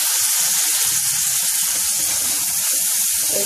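Raw mango pickle, seasoned with lemon juice and vinegar, cooks over low heat in a pan, giving off a steady, close, even sizzle and soft bubbling hiss with no voices.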